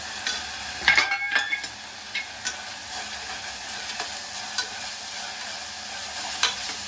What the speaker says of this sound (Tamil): நல்ல வாசனை வர வரைக்கும் வதக்கலாம்.